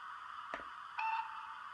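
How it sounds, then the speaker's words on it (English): A brief electronic short-whistle tone from a Hornby TTS King Richard II model locomotive sounds once, short and clean, after a soft click, with a steady background hum. "Function 4, short whistle."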